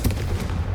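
Confringo blasting spell fired in Hogwarts Legacy, a single sharp explosive burst near the start followed by a dense crackling rumble that carries on loudly for the rest of the moment.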